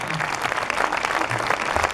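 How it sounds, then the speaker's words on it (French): Dense, steady applause from a crowd at a cinema film premiere at Kinepolis Mulhouse, an even wash of many hands clapping throughout. "Allez, on peut l'applaudir,"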